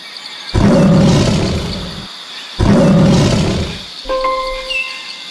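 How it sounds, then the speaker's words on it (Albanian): Two deep, powerful lion roars, each lasting about a second and a half, close and loud, followed by brief bird-like calls. "Çfarë tingulli bën luani?"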